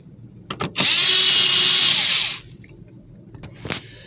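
A power driver runs a screw into a Honda Civic sun visor in one loud, steady whir of about a second and a half, framed by small clicks and handling knocks before and after.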